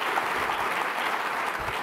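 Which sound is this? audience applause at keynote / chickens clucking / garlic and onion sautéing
audience applause at keynote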